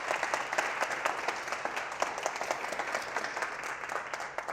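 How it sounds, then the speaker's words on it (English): At a seminar event, a room full of attendees claps together in a steady round of applause, moderately distant and fairly soft, continuing for several seconds. "All this applause is for you."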